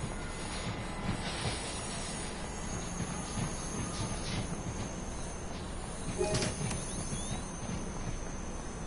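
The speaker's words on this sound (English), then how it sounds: "Okay, a little commuter train." A London Overground commuter train in a PS4 game, rumbling softly and steadily in the background with faint rail noise and occasional brief squeals, no voices.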